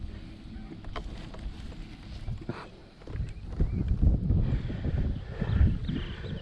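Strong, gusty wind roars and buffets across the microphone on a very windy day at an open flying field, rising and falling in loud rumbling surges throughout.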